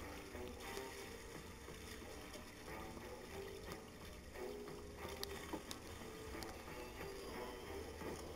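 Water sprays in the Luigi's Mansion 2: Dark Moon video game as a steady, rushing hiss with light patter, continuous and fairly close for about eight seconds with no talk over it.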